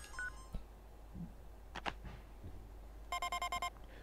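Mail arrival notification jingle in the Paper Mario RPG video game, a brief tone at the start and then a quick run of bright, evenly spaced electronic beeps near the end over faint background noise.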